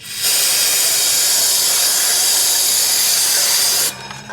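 A long, loud, steady hiss of aerosol cleaner sprayed onto the brakes of a 1982 Ford F150, lasting several seconds up close before cutting off abruptly.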